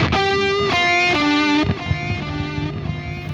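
An electric guitar plays with high-gain distortion and no noise gate, loud sustained chords shifting pitch in a few strokes, ending on a lower ringing chord.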